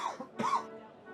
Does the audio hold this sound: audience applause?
no